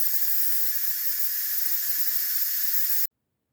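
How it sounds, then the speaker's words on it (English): An Instant Pot vents its pressure in one steady, loud hiss of escaping steam that runs continuously for about three seconds and then cuts off abruptly to silence. "Now, we're going to come up there and release all the pressure."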